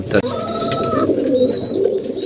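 Pigeons coo steadily at close range in a loft where the birds are kept and fed for raising young, with soft overlapping calls throughout and no talk.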